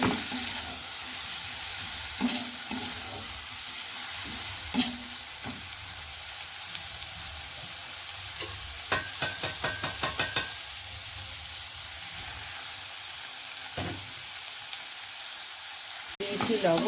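Cauliflower pieces frying with salt in a pan give a steady, moderate sizzle throughout, broken by brief clinks and scrapes of stirring, with a short run of sharper knocks in the middle and near the end.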